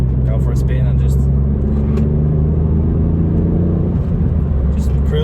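A Ford Fiesta ST heard from inside while driving gives a constant low engine rumble and road drone, steady and fairly loud throughout, with a voice now and then over it.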